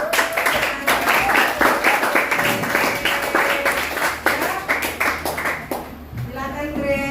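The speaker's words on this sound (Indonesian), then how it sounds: "beri tepuk tangan untuk kalian dulu." Students applaud their classmates' presentations in a ninth-grade mathematics classroom lesson on the volume of a rectangular prism, with dense, sustained clapping close by and voices mixed in throughout.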